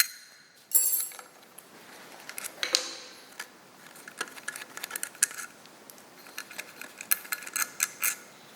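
Small steel balls from a Leitz optical dividing head clinking and rattling as they are gathered up, irregular light metallic ticks and clicks close by, with a sharper clatter near the start.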